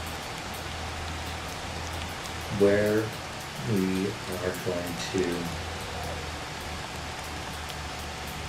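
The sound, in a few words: rain in the video game Motor Town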